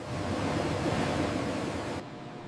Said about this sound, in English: The slices plunge into a hot water blanching tank to lock in their vibrant